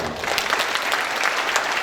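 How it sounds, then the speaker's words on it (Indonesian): An audience applauds at a DevFest Bogor 2023 keynote session, giving steady, dense clapping that fills the whole moment with no pauses. "Tepuk tangan dulu dong."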